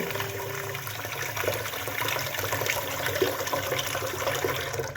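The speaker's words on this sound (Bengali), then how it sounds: "আমরা একটা পাত্রে চাউল নিয়ে নিলাম। এই চাউলগুলি ভালোভাবে ধুয়ে নিব।" Rice grains being washed in a pot of water: steady sloshing and trickling water noise runs nearby throughout.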